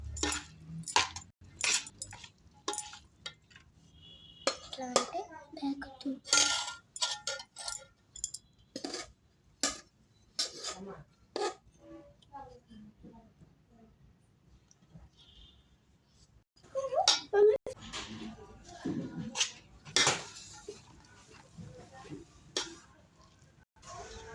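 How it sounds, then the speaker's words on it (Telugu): A spoon scrapes and clinks against a metal pot in uneven bursts while cooked pulihora tamarind rice is mixed, close and fairly quiet with pauses between strokes. "పులిహోర ఉడికిపోయిందని పులిహోర కలుపుకున్నాను"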